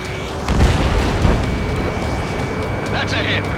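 Missile striking an aircraft in Ace Combat 7, a loud booming explosion over roaring jet engine noise, with a second burst of rumble shortly after and cockpit radio chatter faintly underneath.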